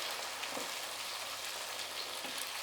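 Tomatoes frying with garlic in a kadai give off a steady, even sizzle with a soft hiss that holds at the same level throughout, with no talking.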